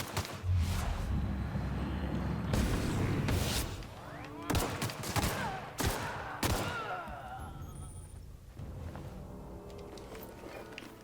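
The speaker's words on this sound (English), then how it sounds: "who is shooting at me?" Gunfire in The Outer Worlds, a video game: several loud irregular bursts of shots ring out over a dense, steady wash of game sound, with a faint voice now and then.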